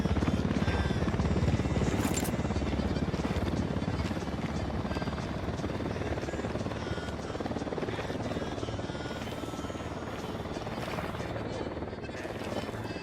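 Helicopter in the video game Ghost Recon Wildlands, a loud, steady rotor drone that fills the whole stretch while players talk over it.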